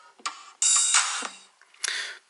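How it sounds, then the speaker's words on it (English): A drum kit pattern programmed in a mobile music app plays a few short, crisp hits and a brighter cymbal-like burst, faint and sparse, with gaps between the sounds and no talking. "down the bottom here you've got the actual drum parts, and they sound a bit like this"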